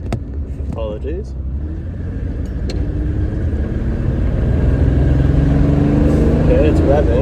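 A Mercedes 280SLC engine revs under load with the throttle held down, a rough, steady rumble that builds slowly in loudness, with a brief voice near the start.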